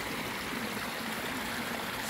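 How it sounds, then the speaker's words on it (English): A waterfall outside a house on a chilly evening gives a steady, continuous rushing wash of water, even and unbroken throughout, with no voices over it. "the waterfall."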